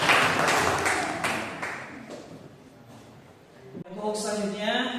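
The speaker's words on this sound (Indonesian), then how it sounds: "Ya, Insya Allah tepuk tangan." Students in a classroom clap in a short burst of applause that fades out, followed by talking.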